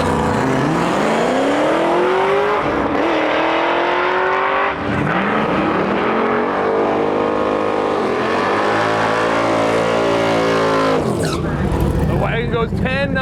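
A 2013 Cadillac CTS-V Wagon with a six-speed manual makes a drag strip run, its engine roaring loudly and climbing through repeated gear changes with a continuous racing din, alone without voices.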